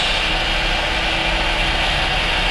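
Constant loud rushing of a Honton T300 hot air rework station heating a PS3 Slim's RSX chip at about 200 degrees for removal, an even jet-like blow from start to finish without talk.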